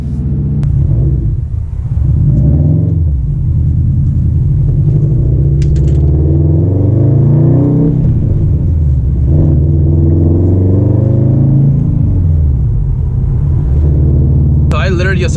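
A 2018 Subaru STI turbo is being driven, heard from inside the cabin as a loud, steady low engine drone that rises and falls as the revs change, with no break in the rumble.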